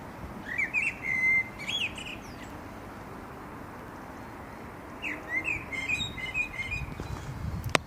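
A blackbird sings its evening dusk-chorus song in a kitchen garden after sunset, two separate fluting, warbling phrases heard at moderate distance over a soft outdoor background hush.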